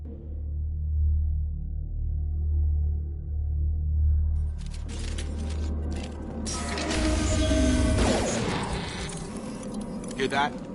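Fenris security mechs in the Mass Effect 2 video game whir and clank as they move, a low hum giving way midway to dense, loud mechanical grinding and clattering against background game noise.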